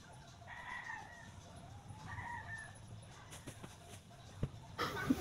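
Chickens cluck and a rooster crows faintly in the background of a home, two drawn-out calls followed by scattered soft clucks and a few knocks near the end.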